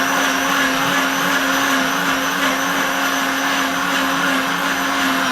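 A blender jug filled with a little hot water and the lid plug in place runs on high to clean itself, a loud, steady motor whine with churning, whooshing water throughout.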